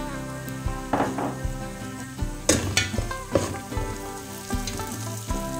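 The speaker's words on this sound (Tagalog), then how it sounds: "And then ilagay na po natin itong kabsa mix." Beef kabsa with kabsa spice mix frying and being stirred in a pan, steady sizzle broken by several sharp utensil scrapes and knocks against the pot, close and fairly loud with no talk.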